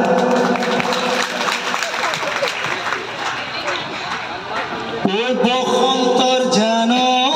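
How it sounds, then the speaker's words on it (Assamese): Audience applause at a Bihu event, loud crowd clapping over a voice for about five seconds before giving way to music with a dhol and pepa. "এটা হাত চাপৰি মাৰিলে ভাল পাওঁ"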